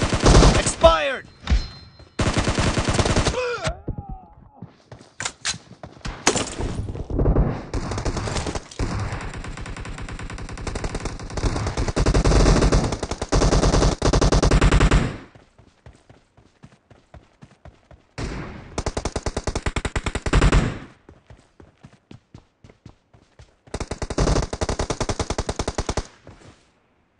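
M249 light machine gun firing in the video game PUBG during a team deathmatch arena round, long loud sustained bursts of rapid automatic fire broken by short pauses and scattered single shots.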